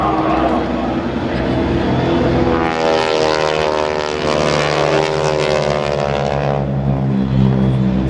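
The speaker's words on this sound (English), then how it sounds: "Here's the pop-up, watch them roll in on the target, and this is the solos bomb run." Propeller aircraft of the GEICO Skytypers team roar loudly and steadily through a bomb run at a military open house air show, the engine drone swelling mid-pass with a harmonic pitch sweep as the planes roll in on the target.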